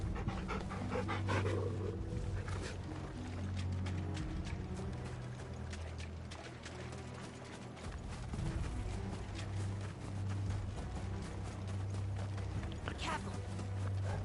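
Dog panting in the video game Final Fantasy XVI, with rhythmic quick breaths over a low, steady game background and some clip-clop footsteps. Fairly faint.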